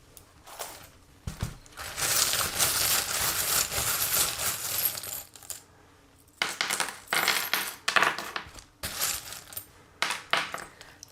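Small metal charms tumble and clatter onto a table for a fortune reading, a scattered run of light metallic clinks and jingles coming in bursts, close and fairly quiet, with no voices.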